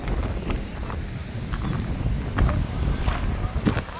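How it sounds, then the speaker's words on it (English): Gusty wind at a beach buffets the microphone outdoors, a steady rumbling roar with occasional stronger gusts, and a voice can be heard faintly in the background. "It's a bit windy today,"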